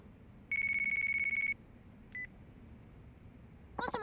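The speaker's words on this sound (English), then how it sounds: "phone call." Phone ringing in the video game Yakuza 4: one steady electronic tone lasting about a second, then a short beep, then a brief burst of electronic chirps, all clear against a quiet background.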